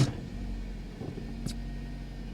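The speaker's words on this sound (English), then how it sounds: "The idle's getting better though." A cheap Mercedes car engine idles in gear with a low, steady rumble that holds throughout, with a faint brief click near the middle.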